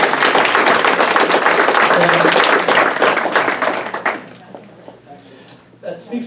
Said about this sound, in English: So I think it's a round of applause for that